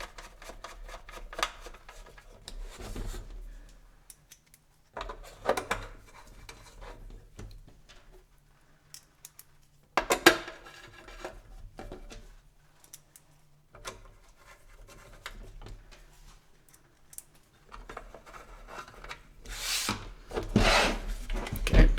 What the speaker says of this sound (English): Stage just to put the rear blanking panel on with the countersunk screws.